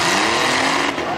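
Loud engines roar and rev as demolition derby cars get moving at the start of a heat at a Washington County, Ohio derby, a dense close-up drone with a slight dip near the end.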